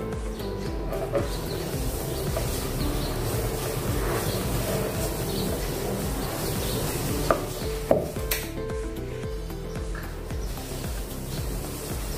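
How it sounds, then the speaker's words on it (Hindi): A knife slices along the edges of rolled, fairly thick namkeen dough on a board, giving steady cutting and scraping sounds with a few sharper taps near the end, close up and without talk. "अभी हम थोड़ा सा साइड से काट लेंगे"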